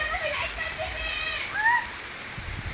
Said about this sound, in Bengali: দেখেন বৃষ্টি